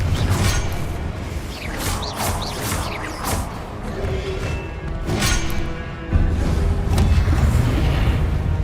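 Blasting spell explosions from the Hogwarts Legacy game, a run of booming, crashing bursts with whooshes over a steady rumbling game bed, several impacts in quick succession and a louder surge near the end.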